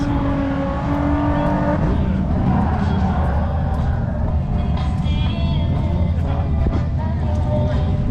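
Drag racing cars with Honda K20 and K24 engines roar at a strip, a loud sustained engine drone with shifting revs heard up close from inside the car, with brief voices underneath.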